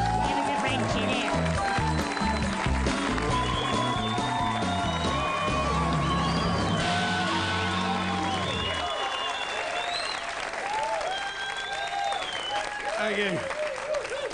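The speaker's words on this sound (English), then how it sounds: "Please give the clap to the man with the beard." Audience applause at a comedy club as the next act is brought on, a dense loud wash of clapping running under music and a compère's talk, fading toward the end as a new voice begins.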